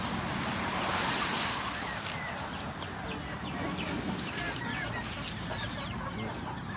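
Domestic free-range chickens fed on Israeli sweet grass cluck steadily in a close, busy flock, with faint bird calls and outdoor noise beneath.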